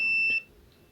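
A single steady electronic beep from a multimeter continuity tester, high and clear, lasting under half a second before cutting off to quiet room tone.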